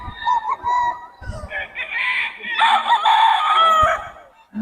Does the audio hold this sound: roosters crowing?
yes